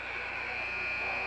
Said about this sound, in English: And the shot is up and the buzzer sounds.